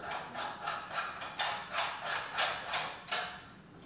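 Front barrel of a Specna Arms B03 airsoft rifle being unscrewed along a long thread, a series of rhythmic soft scraping, grinding turns about every half second, close and fairly quiet.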